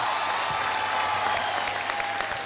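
A TV game-show studio audience claps in a sustained, loud burst, a thick wash of many hands at an even level throughout, with no talking.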